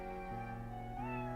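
A single drawn-out cat meow sounds clearly in the Professor Layton vs Phoenix Wright game, sitting over a steady tonal music background.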